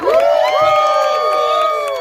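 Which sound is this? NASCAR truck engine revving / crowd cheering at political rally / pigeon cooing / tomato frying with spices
crowd cheering at political rally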